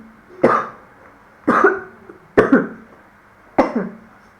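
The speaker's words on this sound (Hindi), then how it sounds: "मुझे खांसी आ रही है" Four separate coughs, each a sharp burst trailing off, spaced about a second apart at close range with no talk around them.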